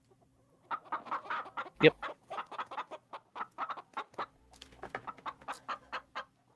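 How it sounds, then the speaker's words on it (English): Chickens clucking in a rapid, busy series of short calls, close and fairly clear, with one louder squawk early on and a brief spoken word mixed in. "So the chickens now stopped because of the booming voice."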